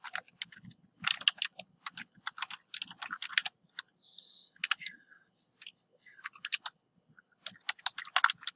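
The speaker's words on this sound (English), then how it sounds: "I'm just going to type in some of my different parameters." Close, quiet typing on a computer keyboard while entering parameters in CAD software, irregular clusters of key clicks with brief pauses and a few faint tonal beeps in the middle.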